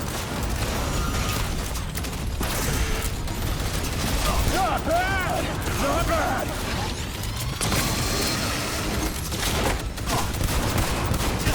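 Gunfire crackles through combat in Cyberpunk 2077 as repeated shots and mechanical clatter in a busy firefight mix, steady and fairly loud, with someone speaking over much of it.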